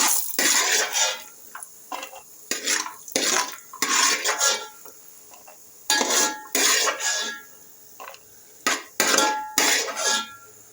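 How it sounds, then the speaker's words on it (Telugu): Fried cashews tipped from a pan into a bowl give a run of scraping, clattering bursts of utensil on metal, spaced irregularly over several seconds with short pauses, close and fairly loud, with no voices. "వేపుకున్న జీడిపప్పును అయితే ఒక గిన్నెలోకి తీసేసుకుందామండి"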